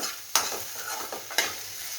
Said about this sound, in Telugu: ఆనియన్స్ ఎక్కువ వేగే అవసరం లేదు, మగ్గితే చాలు.